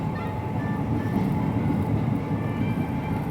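The 17420 Vasco da Gama Tirupati Express runs along the line with a steady, continuous rumble and faint wheel hum, loud and unbroken throughout, with no voices.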